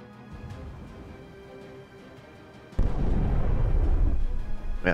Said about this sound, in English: Get my artillery to work over here.